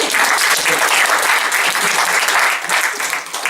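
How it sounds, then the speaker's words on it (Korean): Applause from a church congregation after a worship song, a dense steady clapping of many hands throughout, slightly thinning toward the end. "박수."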